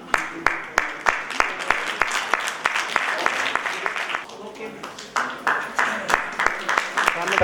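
Audience at a university convocation in Uttarakhand clapping for a doctoral degree recipient, a steady moderate round of applause punctuated by sharp, regular claps close to the microphone, dipping briefly midway before picking up again.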